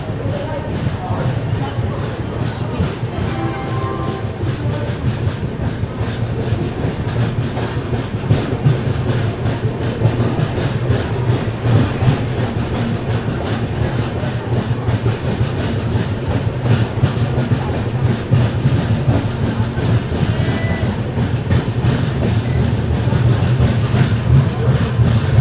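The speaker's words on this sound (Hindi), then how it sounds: "निकल चुकी है अपनी ट्रेन जो है।" The Kashi Vishwanath Express, seen from inside a 2AC coach, keeps up a steady rumble with continuous rail noise and faint clickety-clack, and a voice talks over it throughout.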